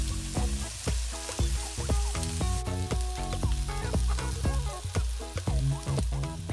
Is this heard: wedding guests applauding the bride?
no